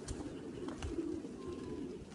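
Soft, low homing pigeon cooing, muffled and steady beneath a hum of background noise.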